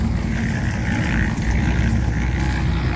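Steady low rumbling drone of a cement mixer drum turning on a construction site where cement is mixed on site, continuous and fairly loud with no talk.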